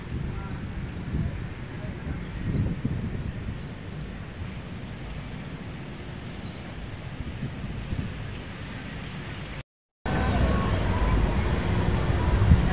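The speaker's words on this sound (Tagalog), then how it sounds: "Lakas po ng hangin." Strong wind buffets the microphone in a constant low roar, briefly cutting out and then returning even louder.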